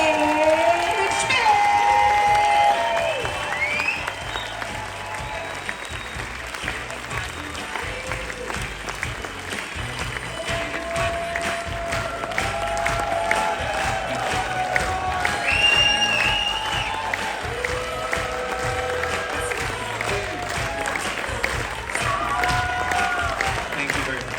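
Sustained applause from a large audience at a cruise-ship event fills the room, steady clapping with a few cheers and voices mixed in throughout.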